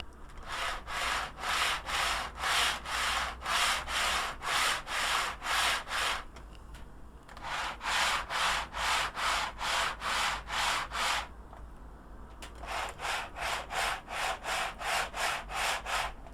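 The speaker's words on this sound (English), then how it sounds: "I'm going to push and pull the coaches back and forward quite vigorously" Model railway coaches on the Dean Park 258 layout pushed and pulled vigorously back and forth along the track, making rhythmic rolling rumbles in three runs of steady repeated strokes, close and fairly loud.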